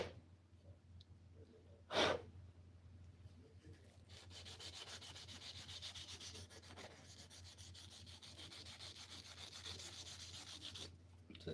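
Steady rhythmic sanding strokes scratch back and forth on wood, close and moderately loud, after a brief sharp rub near the start.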